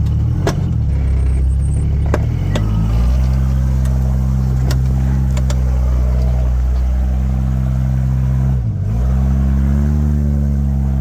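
A Jeep ZJ driving through slick mud, its engine droning loud and close, rising in a rev early on, then holding steady with a brief dip near the end.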